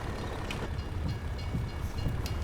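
A train rumbles past in the Farming Simulator 22 game, a steady low mechanical roll with faint rhythmic clicks, moderately distant and continuous.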